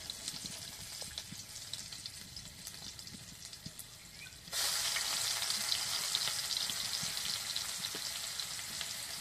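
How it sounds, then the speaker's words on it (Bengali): Onion paste fries in oil with green chili and black cumin, giving a steady bright sizzle. Partway through it jumps to a louder, denser crackle and then holds at that level. "পেঁয়াজটাকে লাল লাল করে ভেজে নিতে হবে।"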